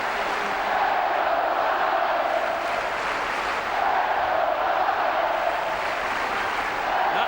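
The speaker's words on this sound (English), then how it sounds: "And the fans in chorus cheering on their team." Hockey fans roar together at a Fort Wayne Komets championship game against the Wichita Thunder in the 2012 CHL President's Cup Finals, a dense, steady crowd din swelling and easing in waves across the whole stretch.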